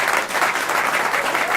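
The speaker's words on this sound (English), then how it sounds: "Please give him a round of applause." A crowd at an Atlanta mayor's affordable housing announcement breaks into steady, dense clapping, loud and close throughout the short burst.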